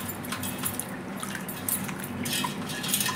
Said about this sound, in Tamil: இதை ஃபுல்லாக நான் தண்ணியில் அலசிட்டு வந்துடுறேன்.